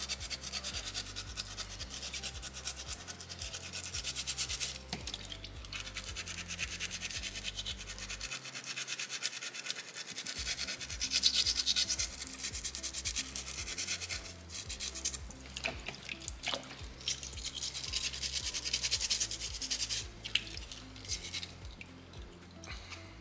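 Folded sandpaper rubbed against a small soapstone owl carving, a continuous close gritty scratching in uneven strokes with brief pauses, no talk.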